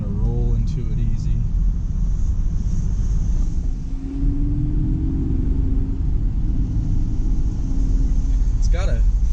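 A Mercedes SL65 AMG accelerates gently, its deep engine rumble steady and close, with a smooth rising note midway and a voice briefly heard over it.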